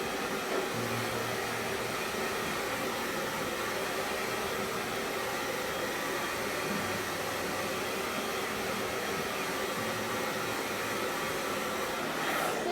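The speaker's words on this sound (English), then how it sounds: "let me throw the hairdryer on it really quick too." A hair dryer blows over a chalk paste stencil on a chalkboard, a steady broadband whoosh of moving air that holds even and fairly loud for the whole stretch, with no voices.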